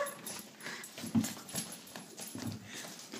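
A dog gives soft, high whimpers and short whines, close but fairly quiet, with faint rustling and shuffling around it and no speech.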